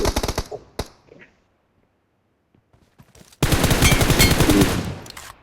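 Automatic gunfire in a PUBG crossfire during a 4 vs 4 match, with a rapid burst at the start, a near-silent gap, then a loud, sustained volley of close shots.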